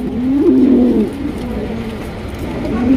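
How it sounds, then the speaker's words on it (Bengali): Pigeons coo close by, a large, good-quality pair kept for sale among other fancy pigeons: two loud, rolling coos, one early and one at the end, with softer murmuring between. "এখানে রয়েছে কিন্তু আরো একজন চমৎকার কবুতর"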